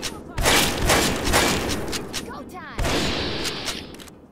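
Shotgun blasts in the video game Fallout 3 boom out in loud, broadband bursts, with several rapid shots early and another heavy blast near the end, all set against a dense, noisy game soundscape.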